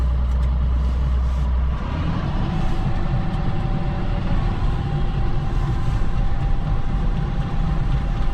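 A heavy tractor engine runs hard at high revs with the PTO engaged, loud and close, a constant droning roar with mechanical rumble and no break.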